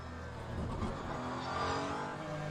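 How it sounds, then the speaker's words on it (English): Cadillac V8 hypercar in the racing game Le Mans Ultimate, its engine roaring and revving continuously as it rises and falls in pitch, loud and steady throughout with no voices. "Especially the Cadillac. Love the roar of the V8"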